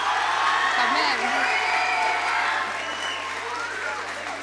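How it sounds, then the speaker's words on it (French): Audience applause with cheering fills a hall at a departmental secondary-school pleading contest awards ceremony in Oise, honouring teachers on stage; dense, sustained clapping over background crowd voices, easing slightly toward the end. "Ils sont rarement aussi applaudis"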